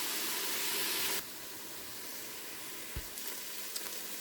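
Vegetables sprinkled with salt cooking in a soup pot, a close, loud sizzle that drops suddenly to a quieter, steady hiss, with a brief knock and a couple of small clicks.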